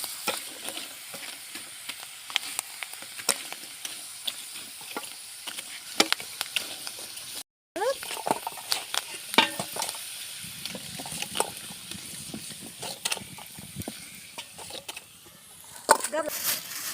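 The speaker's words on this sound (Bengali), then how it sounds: "তো আমাদের বাসায় চিপস ভাজা অল্প তেলেই ভাজি করা হচ্ছে।" Potato chips fry in a little oil at home, a crackling sizzle full of sharp pops and stirring clatter, with a short break, and a voice talks over it at times.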